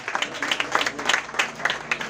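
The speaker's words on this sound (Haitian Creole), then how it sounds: "Et applaudit l'arrivée pasteur Esaïe. Applaudis chaudement encore s'il vous plaît." Warm, steady clapping from a congregation at a wedding celebration greets the arrival of pastor Esaïe, with many hands beating in a quick rhythmic pulse of close, moderately loud applause.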